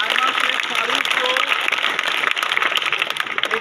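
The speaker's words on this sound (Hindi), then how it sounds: "जोरदार तालियां इसके लिए।" Enthusiastic applause at a school scholarship prize ceremony for a qualifying student, dense steady clapping throughout the whole stretch, fairly loud and close, with possible faint voices mixed in.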